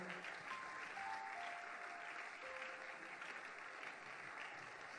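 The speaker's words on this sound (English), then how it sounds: "Please keep clapping." Church congregation clapping during a service, a steady, even wash of applause that holds without pause for several seconds, faint and somewhat distant, with no speech over it.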